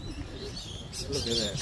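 Birds call and chirp outdoors, among them black cockatoos, in a steady busy chorus that gets louder toward the end while someone speaks briefly over it.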